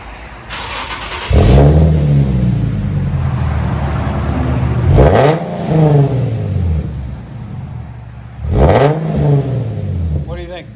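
Infiniti G37 with its 3.7L V6, muffler deleted or straight-piped, revs hard three times from inside the cabin, each loud sharp climb and fall separated by a lower rumbling idle.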